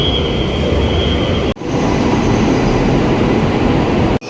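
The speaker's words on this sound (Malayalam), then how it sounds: "അതാ വരുന്നു ബുള്ളറ്റ് ട്രെയിൻ." A bullet train running at up to 300 km/h in China pulls in at a station platform, a loud, steady roaring rush with faint high whine, briefly interrupted by sudden cuts.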